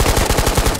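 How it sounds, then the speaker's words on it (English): AK-74U rifle emptied in one continuous full-auto magazine dump in the VR shooter Ghosts of Tabor, a steady rapid string of about ten close, loud shots with no talking. "Let's pump this AK-74U into him. I'm just gonna mag dump it."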